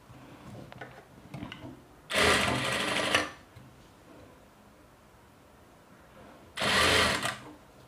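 A sewing machine stitching blouse fabric runs in two loud, close bursts of about a second each, separated by quiet handling and faint rustling.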